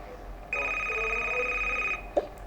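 A telephone rings at home, one steady electronic ring of about a second and a half over a low background hum, followed by a brief soft knock.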